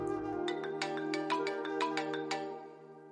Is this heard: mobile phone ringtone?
yes